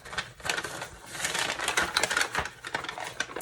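Paper bags are opened and flattened, giving continuous close crinkling, rustling and crackling with sharp little bursts throughout, heard alone without talk.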